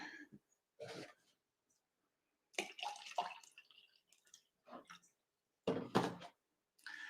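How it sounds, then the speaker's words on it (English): Water is poured into a glass in several short, quiet splashing bursts separated by silent gaps. "Had to pour me some more agua."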